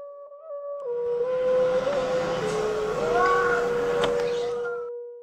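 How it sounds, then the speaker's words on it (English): A steady, eerie whistling tone swells and bends in pitch over a windy hiss, sustained for several seconds before fading. "The falcon feathers whistled in the wind as Loki flew to Jotunheim."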